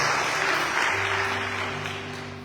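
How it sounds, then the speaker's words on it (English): A crowd at a Sharad Navaratri night at Devi Mandir in Pickering applauds the sponsors with a short burst of clapping over a sustained musical drone, fading slightly toward the end. "Give them a lovely round of applause,"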